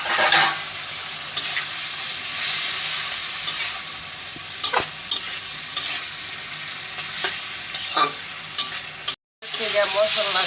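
Shrimp with turmeric, green chili and salt fry noisily in a pan, with a dense close sizzle broken by sharp scrapes and stirring clatters and a brief dropout near the end.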